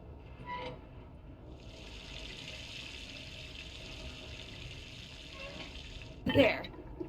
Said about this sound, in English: The valve is open. I can hear liquid starting to move through it.